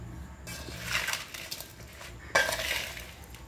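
Spices being stirred into cut mango pieces for a traditional homemade mango pickle, a soft scraping and clinking of a spoon against a bowl with a couple of sharper knocks, close and fairly quiet.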